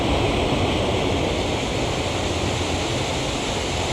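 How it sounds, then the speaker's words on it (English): Creek water pours steadily down into a spillway, making a continuous, loud broadband rush with no pauses, like a small waterfall heard up close. "so it looks like this entire creek runs down into this spillway"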